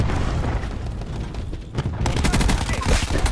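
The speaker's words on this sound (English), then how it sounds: "Annihilator firing." Annihilator gunfire in Black Ops 4, a loud continuous barrage of game weapon fire with booming reports that thickens after the first two seconds, filling the whole clip.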